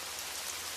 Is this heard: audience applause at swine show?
no